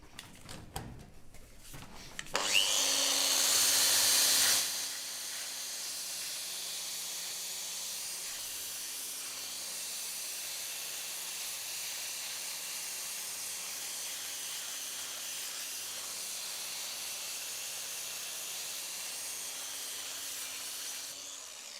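A coated abrasive belt grinds alongside and over a steel weld, opening with a brief loud burst before settling into a steady, continuous hiss and whine that runs unbroken to the end.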